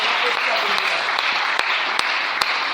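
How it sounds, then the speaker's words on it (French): A church congregation applauds, with steady, dense clapping and a few sharper claps standing out, under some background voices. "Est-ce qu'on peut applaudir le Seigneur?"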